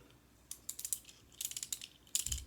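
Bursts of quick, close ratchet clicking from a spinning Beyblade top. The light plastic ticks come in rapid irregular clusters with short gaps between them, and no voice is heard.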